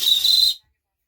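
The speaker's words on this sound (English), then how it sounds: "Oh, it's even got a whistle." A small whistle from a survival fire-starter kit is blown once, a shrill, steady high tone lasting about half a second before stopping abruptly into silence.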